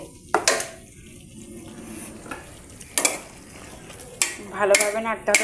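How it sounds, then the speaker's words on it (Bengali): Pasta and beef stirred together in a pan, with a spatula scraping and clanking against the metal in several sharp bursts over a faint sizzle, close by. "ভালোভাবে নাড়তে হবে"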